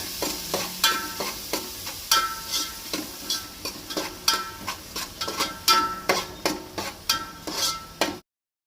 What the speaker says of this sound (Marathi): ते बारीक चिरून घालता आनी बरें तळसून घेवंक जाय 2 मिनटां